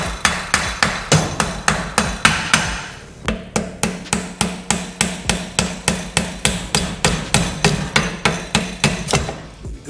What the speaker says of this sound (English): I'm gonna use a little blow hammer and tap the axle out.